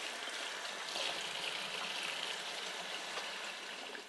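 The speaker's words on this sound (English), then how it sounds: "I'm going to wash my hands in very warm water using a lot of soap." Hands being washed under a running tap of very warm water with plenty of soap, a steady close splashing and trickling that holds even for about four seconds, with no talk.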